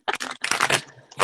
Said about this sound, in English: I'm actually shuffling from a deck called the Secret Language of Light